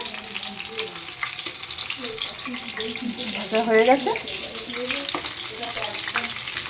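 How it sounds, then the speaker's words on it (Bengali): Continuous hiss and crackle of chicken pakoras deep frying in oil, while someone speaks briefly over it. "যে এদিকে পকোড়া ভাজা চলছে"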